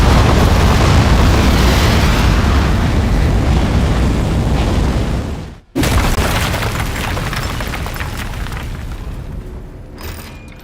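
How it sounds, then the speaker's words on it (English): Rocket liftoff in the video game Aperture Desk Job: a loud, sustained roaring rumble that fills the clip, cuts out abruptly midway, then resumes as a fading thunderous rush. "3, 2, 1. We have liftoff."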